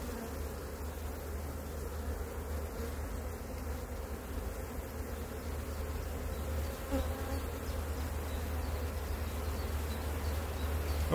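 A dense crowd of honeybees hums steadily and close, with no break, as a colony is moved from a nucleus box into a full hive with brood frames; the buzzing swells slightly toward the end and no one speaks.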